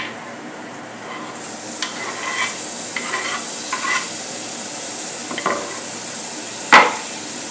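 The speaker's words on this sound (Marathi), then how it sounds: "परतून घेऊया." Chopped tomato with fenugreek leaves sautéing in a pan, a soft continuous sizzle under repeated spoon scrapes and stirring taps, with one sharper clatter near the end.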